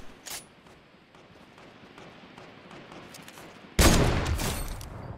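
Gunfire in the Fortnite Battle Royale game, aimed at a jump pad: a few faint scattered shots, then a loud burst of rapid shots near the end.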